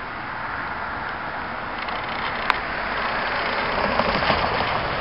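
Canadian Pacific freight locomotives, a three-unit consist hauling grain, pass close by with a steady broadband engine roar and rumble that builds slightly, with a brief sharp metallic click midway.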